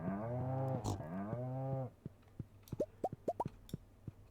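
Cows mooing on a Stardew Valley farm: a long drawn-out moo up close, followed by a string of short plopping game sound effects.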